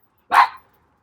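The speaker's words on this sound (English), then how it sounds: "sorry, that's my dog." A single sharp dog bark, close and loud, rings out once against an otherwise silent background and fades quickly.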